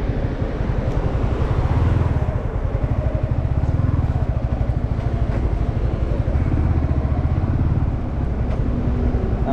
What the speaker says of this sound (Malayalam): മഹീന്ദ്രയുടെ ബൈക്ക് ഇവിടെ വയ്ക്കണം, പുതിയ വണ്ടിയാണ്.